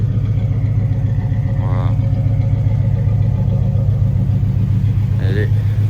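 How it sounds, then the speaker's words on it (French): A Chevrolet Chevelle Super Sport muscle car's V8 engine rumbles steadily and loudly up close for several seconds, a deep continuous drone, with someone speaking over it briefly. "Regardez cette Chevelle Super Sport. Le vrombissement là, magnifique"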